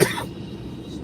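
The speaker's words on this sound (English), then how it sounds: "I'm sorry about the coughing." A single short cough sounds close at the start, followed by quiet room tone.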